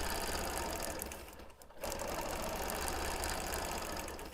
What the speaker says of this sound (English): which is stitching in the ditch all along this black border